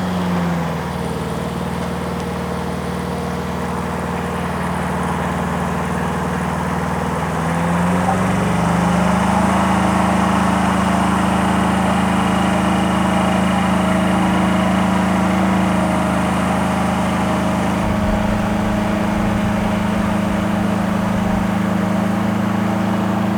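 A Spimerica Palazzani TZX 550 55 ft compact tracked spider lift runs its small engine in a steady, loud drone. Partway through the pitch steps up and holds, and a rougher rumbling layer joins near the end.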